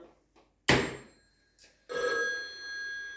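A telephone bell rings loudly in an indoor setting, with two distinct bursts of ringing separated by a brief pause, each ring clear and close.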